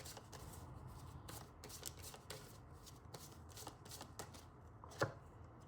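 Tarot cards are shuffled in quick riffling bursts, a soft rapid flutter repeating steadily with one sharper tap near the end, close but very quiet and with no talking.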